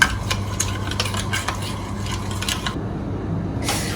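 A spoon stirs a sauce with a little sugar for Wenzhou-style steamed fish. Quick, close, rhythmic scraping and clinking strokes repeat against the bowl, then stop briefly before starting again.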